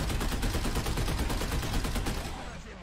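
Rapid, sustained anti-aircraft gunfire from a Chieftain Marksman in War Thunder, a dense continuous stream of close, loud shots with no pause, tapering slightly at the end.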